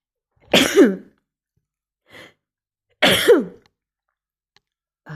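Two separate bursts of harsh, throaty coughing, each a quick double hack, about two and a half seconds apart and close to the listener, with faint breaths between them and no talking.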